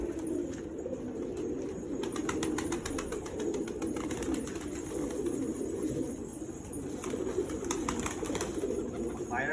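Pigeons coo steadily in a loft, a low continuous murmur of overlapping calls with some faint chirps and rustling, moderately quiet throughout.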